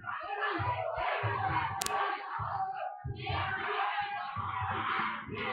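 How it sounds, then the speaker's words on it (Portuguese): A crowd at a fight final screams and cheers continuously, a dense, loud roar of voices that briefly dips before surging again, with shouting throughout. "É, tá muita gritaria aqui,"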